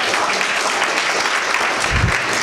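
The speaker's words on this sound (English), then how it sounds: "Let's just give them a round of applause" A crowd at a local event claps in a sustained, full round of applause, many hands blending into an even roar from start to finish with no clear voices.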